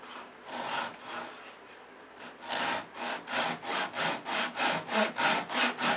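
Handsaw cutting through the wood of a Les Paul guitar neck tenon clamped to a bench, a steady run of about a dozen rhythmic, rasping strokes that grow louder and more regular, close up with no talking.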